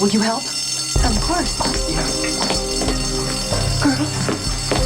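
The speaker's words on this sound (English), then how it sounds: "That's the fire alarm." A fire alarm rings steadily in a building during an emergency evacuation, continuous beneath several people talking urgently nearby.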